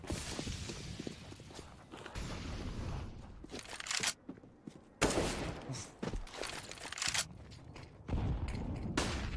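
Gunfire in the video game Counter-Strike on the Dust2 map during a professional esports match: scattered bursts and single rifle shots mixed with footsteps and game noise, moderately loud with abrupt gaps.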